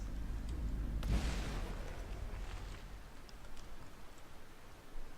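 Tank cannon shells fire in the From The Depths game: a heavy booming blast near one second rolls off into a long low rumble, with a fainter thump toward the end.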